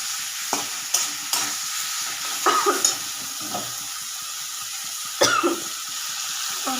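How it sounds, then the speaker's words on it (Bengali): Potatoes with salt and turmeric fry in a pan before cabbage is added, a close steady sizzle broken by several louder stirring scrapes of a spatula, with a cough-like sound in between. "এবার এই আলুগুলো দিয়ে দিলাম। দিয়ে একটু নাড়াচাড়া করব"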